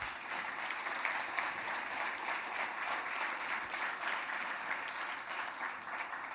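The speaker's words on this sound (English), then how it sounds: "Let's give them a round of applause." A room full of people gives a round of applause at the launch of a trucking freight futures product, steady dense clapping holding for the whole stretch with no voices on top.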